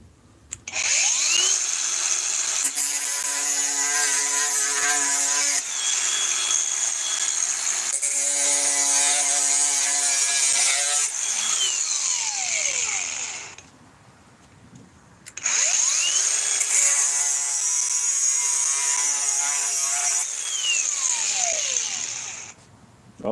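A Flex angle grinder, a cheap floor-model unit, spins up with a loud high whine, runs, then brakes to a stop over a few seconds with a falling pitch, cycled twice with a short gap between, no voices.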